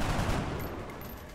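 Gunfire in XCOM Enemy Within, a short, loud burst of rapid shots that fades over about a second.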